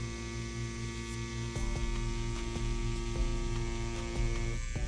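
A tattoo machine runs with a steady electric buzz and hum while a line is pulled, its tone shifting slightly as the needle meets the skin, close and fairly quiet.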